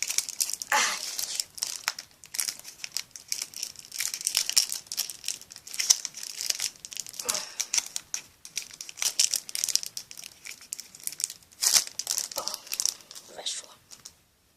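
A trading card pack is torn open, its foil wrapper crinkling and crackling in bursts near the microphone throughout, with some soft talk mixed in.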